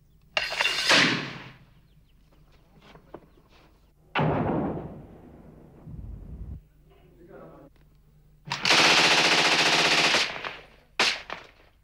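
Machine gun fire from rebels attacking government forces dug into a small stadium during the 1994 Rwandan conflict, several loud bursts of automatic fire separated by quieter gaps, with a voice speaking in between.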